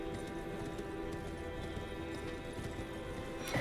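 Horse hooves clip-clop in a steady, continuous rhythm while riding through Elden Ring, close and fairly loud over a dense game soundscape, with no talk.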